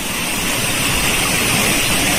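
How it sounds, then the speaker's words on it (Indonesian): A stream and waterfall rush beneath a wooden bridge on a mountain hiking trail, a loud, even, continuous broadband roar of flowing water with no voices. "di bawah ini ya sumber air teman-teman, air terjun mengalir."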